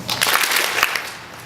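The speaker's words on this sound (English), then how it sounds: "Simon says, clap your hands once." Brief burst of clapping from a graduation ceremony audience, many hands together in a single loose wave that rises quickly and then trails off, a crowd beat rather than one crisp clap.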